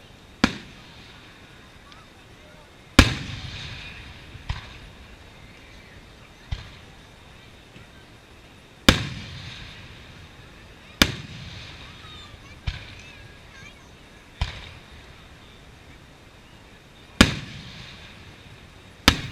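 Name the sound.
fireworks display exploding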